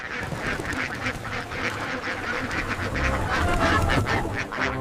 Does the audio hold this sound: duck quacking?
yes